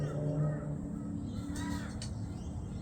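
Crows caw a few times, at moderate distance, over steady outdoor background noise and low murmuring.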